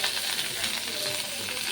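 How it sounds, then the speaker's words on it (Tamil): Sliced onion and curry leaves fry in a pan for a tomato egg thokku, making a dense, even sizzle with soft stirring scrapes, close and continuous with no voices. "வெங்காயமும் கருவேப்பிலையும் சேர்க்கிறேன். இது நல்லா கோல்டன் பிங்க் கலரில் வர வரைக்கும் ஃப்ரை பண்ணிக்கலாம்."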